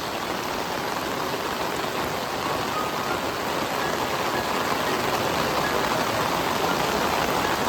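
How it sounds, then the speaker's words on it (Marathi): Heavy monsoon rain pours steadily in the Konkan countryside, a dense, continuous roar of water drumming on surfaces with no pauses. "कोकणामध्ये मुसळधार पाऊस"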